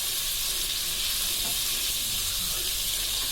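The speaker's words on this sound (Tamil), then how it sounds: "நல்லா வதக்கிட்டு இப்போ கருவேப்பிலை கொஞ்சம் போட்டுக்குவோம்" Garlic, coriander and curry leaves sautéing in a hot pan make a loud, steady sizzle that fills the whole moment without letup, heard close and alone.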